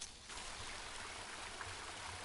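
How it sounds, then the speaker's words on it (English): Steady, faint running water trickles from a pond in a video game, a continuous close burbling stream with no talking. "I found a pond. Running water."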